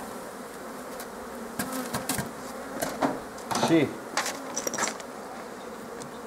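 Honeybees buzz steadily as they are shaken off a hive frame, with several thumps and knocks rising over the hum and a brief spoken word near the start.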